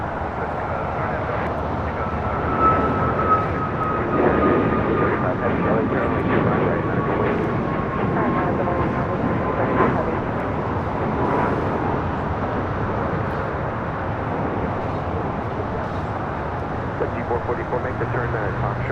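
A United Airlines Boeing 737 MAX 8 takes off from runway 25 right at LAX, a broad, steady jet roar with a faint whining tone that slowly drifts, carrying on under a talking voice for the whole stretch.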